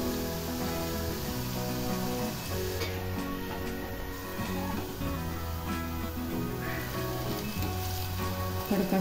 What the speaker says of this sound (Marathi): थोडं भाजून घ्यायचं.